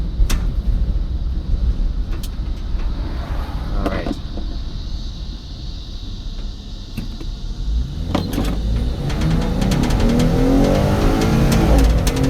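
A 2021 Ford Transit-250 cargo van drives on a road with a continuous rumble of engine and road noise heard from inside the cab, rising slightly as it speeds up near the end.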